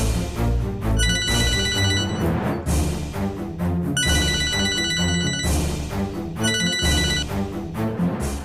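A telephone rings in a recurring electronic ringtone pattern, sounding in three bursts over steady background music in a Tamil TV serial scene, loud and close with no talk.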